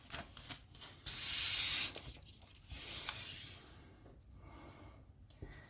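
Fingers smoothing down folded origami paper for a butterfly, soft close rubbing and brushing strokes, one louder sweep near the start and quieter passes after, with no talking.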